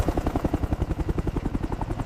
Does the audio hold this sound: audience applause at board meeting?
no